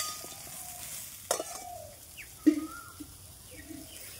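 A spoon scrapes and clinks through raw mango pickle with salt in a bowl: a few distinct knocks and stirring scrapes, close and fairly quiet against a soft background hiss.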